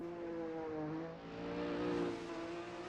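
Alfa Romeo race car in a racing game on the Nürburgring Nordschleife, its engine note dropping and surging under braking, a steady loud harmonic drone that eases then climbs again, with no talk over it.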